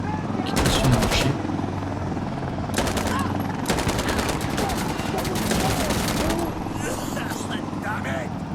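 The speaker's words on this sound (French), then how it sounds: "J'ai tiré au pif." Repeated bursts of automatic gunfire in the shooter game Insurgency Sandstorm, rapid cracking volleys close and loud, separated by short pauses over a rumbling background, while someone talks.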